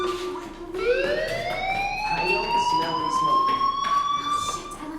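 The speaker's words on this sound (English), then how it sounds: "Hey, do you hear that fire alarm?" A school fire alarm in the video game Life is Strange rises in pitch and then holds a loud, piercing electronic wail. It carries on steadily over a faint background bed, with no voices heard.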